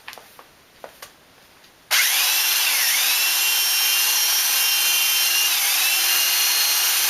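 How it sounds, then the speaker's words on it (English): A powered buffing pad polishes motorcycle paint, spinning up after a few light taps into a loud, steady whirring drone with slight dips in pitch as pressure changes. "A buffing pad is a great way to get most of the initial work out of the way quickly."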